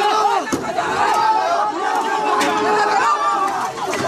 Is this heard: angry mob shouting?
yes